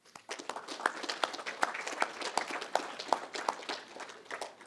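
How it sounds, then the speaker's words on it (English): A lineworker academy graduation audience applauds in a fairly small, sparse round of claps with distinct individual hand strikes, moderately close and settling toward the end. "please take this moment, give them a big round of applause"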